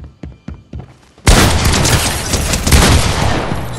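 Video game gunfire: a few sharp isolated shots, then a sudden loud, sustained burst of rapid automatic fire that fills the rest of the moment.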